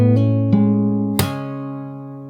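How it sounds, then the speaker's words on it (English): Fingerstyle acoustic guitar playing from a song: a few picked notes, then a percussive slap as the full chord rings out and sustains, decaying slowly and close, with no voice. "And then you ring the chord with the slap."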